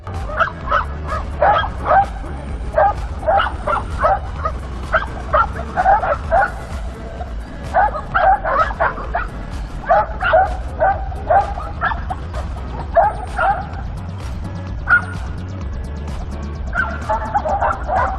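Several dogs barking and yipping in repeated bursts throughout, with occasional whimpers, over a steady low rumble of a small train moving through city streets.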